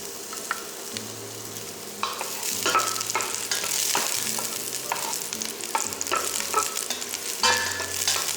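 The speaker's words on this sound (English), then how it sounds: "when the oil is hot, add in the white parts of the spring onions." Spring onion whites fry in hot oil in a pan for a stir-fried noodle dish, a loud steady sizzle with scraping stirs and occasional clinks of the utensil, close and continuous.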